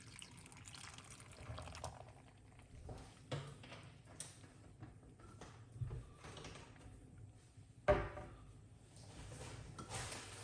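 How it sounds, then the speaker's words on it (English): Water splashes and trickles into a container holding half a cucumber, an unsteady pour with faint clinks and a louder splash near the end, quiet and close. "We're going to put some water inside of it."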